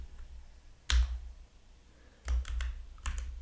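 Short bursts of keystrokes on a computer keyboard while entering Neovim commands: a single sharp clack, a pause, then a quick cluster of several taps and a final pair, close and crisp in a quiet room.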